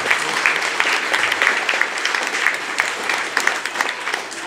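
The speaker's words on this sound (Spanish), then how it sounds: "Démosle un fuerte aplauso a esta monaguilla que está con nosotros." A congregation applauds an altar girl at an evening Mass during a fair in Planes San Antonio, giving sustained, steady clapping from a full room, with no voices rising above it.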